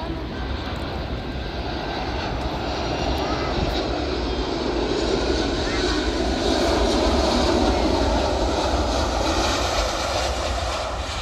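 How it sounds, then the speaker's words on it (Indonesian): A Lion Air airliner lands at Sultan Hasanuddin International Airport in Makassar. Its jet engines roar loud and close in a continuous broadband rumble, with some wind noise, and no clear speech rises above it. "ini ada lagi mau landing satu pesawat Lion Air."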